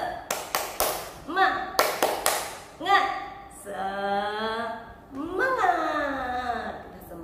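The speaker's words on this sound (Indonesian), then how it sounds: "Kita tepuk semangat dulu dong." Children in a classroom do a rhythmic spirit clap, sharp claps in quick groups of two and three that alternate with chanted voices, near and lively, with a teacher's voice joining.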